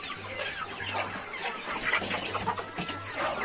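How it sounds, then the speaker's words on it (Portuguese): Turkeys calling out for food beside a trough of wheat and corn mix, a cluster of faint, overlapping squawks and cries repeating through a few seconds, with no talking. "E os peru tá aqui gritando, querendo."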